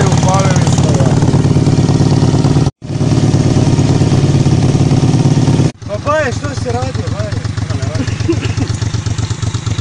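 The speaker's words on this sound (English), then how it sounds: "upalili smo V35-icu. I V35-ica radi." A Moto Guzzi V35 chopper motorcycle engine runs at a steady idle, loud and close, with a continuous rhythmic thrum broken by two brief cut-outs before it settles back into an even idle.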